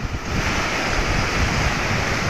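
Loud, constant roar of rushing floodwater overflowing during a typhoon, broad and churning like a swollen flow, with no talking.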